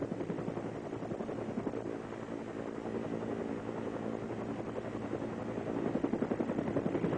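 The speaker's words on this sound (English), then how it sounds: "we're looking at unedited footage taken yesterday aboard Apache helicopter of the South Carolina National Guard with Governor Carroll Campbell" An Apache military helicopter's rotor thumps steadily and loudly throughout, with a dense roar and rhythmic chop close by.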